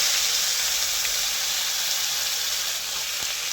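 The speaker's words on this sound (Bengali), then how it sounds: "এবার আদা পেস্ট দেবো, 1 চামচ আদা পেস্ট দিলাম" A spoonful of ginger paste fries in hot oil with turmeric for a fish curry. A steady, dense sizzling hiss runs close and loud the whole time, with a faint tick near the end.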